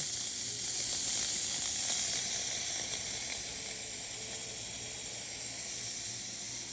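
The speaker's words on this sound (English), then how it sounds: "nice strong steam" A steady, strong hiss of a Rancilio Silvia espresso machine's steam wand after a full tune-up, loud and close, running continuously without a break.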